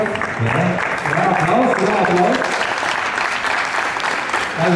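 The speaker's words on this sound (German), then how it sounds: "Applaus." A crowd applauding loudly and continuously from start to finish, the dense clapping close and full, with voices talking over it.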